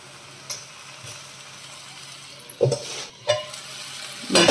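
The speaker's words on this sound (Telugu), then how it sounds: "మూత పెట్టి ఫ్రై చేసుకుందాం." Chopped amaranth leaves with salt fry in a covered pan, giving a soft, steady sizzle with a few louder knocks and stirring clatters near the end and no voices.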